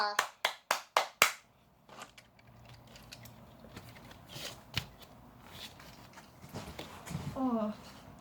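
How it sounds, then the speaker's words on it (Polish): A quick run of six sharp hand claps opens, cheering a Hot Wheels car that finished a homemade track, then a voice talks over faint room noise. "Gorące brawa dla Monterreykera!"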